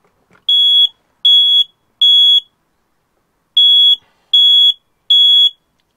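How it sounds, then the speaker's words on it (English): A caravan smoke alarm sounds loud, shrill, piercing beeps close by, three in even rhythm, a short pause, then three more, with nothing else heard. "I've got an alarm there which is perfectly serviceable."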